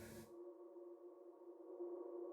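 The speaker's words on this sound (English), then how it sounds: "I think it's just the feedback from the delay and the reverb." A sustained, droning delay and reverb feedback howl with steady ringing tones, lingering after a brief noisy burst at the start and swelling slightly toward the end.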